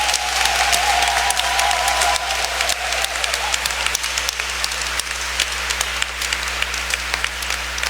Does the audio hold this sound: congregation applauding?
yes